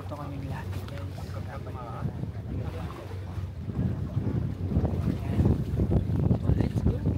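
A sailing catamaran heading to Coral Island off Phuket, Thailand, runs quietly with a steady low rumble and wind buffeting the microphone, growing louder in the second half as people talk nearby.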